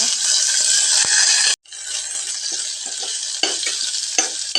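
Garlic hits hot oil already holding browned cumin and fenugreek seeds, a steady close sizzle and fry with a short break, then stirring scrapes and clatters rising over the hiss.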